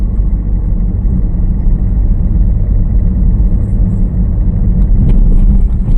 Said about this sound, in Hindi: तेज़ हो रही गाड़ी, तेज़ हो रही है जी